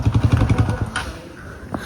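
A motorcycle on a rough off-road trail rumbles close by with a pulsing low engine throb, then fades as it passes.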